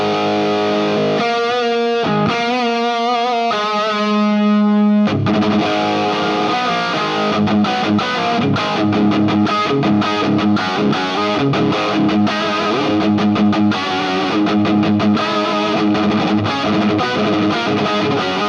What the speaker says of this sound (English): I've got the Plexi 50 watt overdrive on. I've got the Marshall impulse response and just a bit of reverb